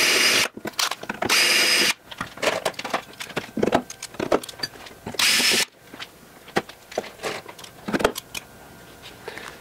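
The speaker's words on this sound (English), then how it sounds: "I'm going to number 30 drill these three smaller holes." A power drill whines in short, loud bursts, drilling small number 30 holes in metal for aircraft door handles, separated by clattering, tapping and handling noises.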